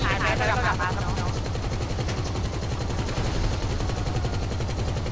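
Rapid automatic gunfire rattles continuously in a video game as police are shot at, loud and dense throughout with a mechanical rhythmic chatter and a brief brighter burst at the start.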